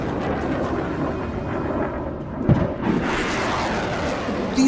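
Missiles launched one after another from a US Navy warship, a continuous heavy rocket roar with a sharp burst midway as another launch kicks in, then the rushing roar carries on loud to the end.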